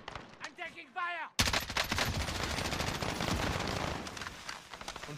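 Rapid bursts of assault rifle fire from a first-person shooter game, dense and continuous after a brief moment of tonal sound, loud and sustained throughout.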